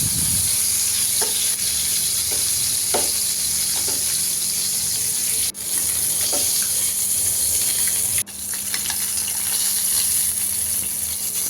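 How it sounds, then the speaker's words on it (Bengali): Fish fries in oil in a frying pan on a stove, giving a steady, loud hissing sizzle throughout, with a few faint clicks and two brief dips, and no one speaking. "আর ফ্রাই প্যান বসিয়ে দিলাম, চুলাতে মাছটা আমি ভেজে নিব"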